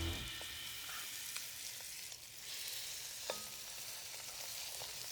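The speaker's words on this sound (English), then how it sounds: "I'm gonna sear my lamb shank in my Dutch oven. You're gonna hear this sizzle." A lamb shank searing in a hot Dutch oven, a steady crackling fry with scattered sharp pops and clicks, close and continuous.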